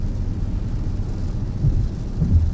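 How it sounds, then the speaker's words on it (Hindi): Heavy rain falls on a car during a road trip through Sindh, a dense low drumming and rumble that stays loud and continuous throughout the short stretch, with no voices. "लेकिन ये जो बारिश है मतलब ये तो कराची तक बता रहा है भाई"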